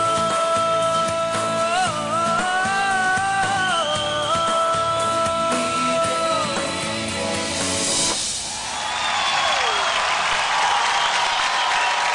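Music from a televised dance competition stage plays for several seconds, then cuts off and a broad wash of audience applause and cheering swells up for the dancer Shashank.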